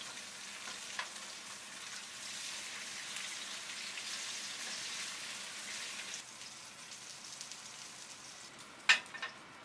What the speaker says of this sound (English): In the same pan now we are going to shallow fry the Rui Mach.